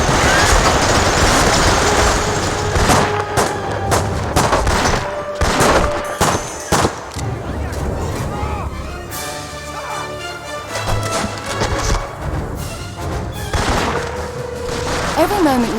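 Loud, rapid bursts of automatic machine gun fire with booming blasts and battle noise in Medal of Honor: Rising Sun, dense and continuous, over a busy game soundscape with faint voices.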